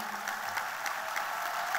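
Audience applauding at a political speech, a dense, steady clatter of many hands clapping together in a hall, continuous throughout at moderate loudness without talk.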